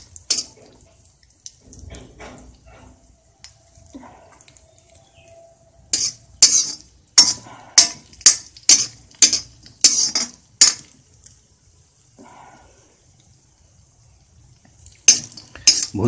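Semolina roasting over a low flame for halwa, mostly quiet with a run of sharp, rhythmic scrapes and clinks as a spoon stirs it against the pan, a few more strokes near the end.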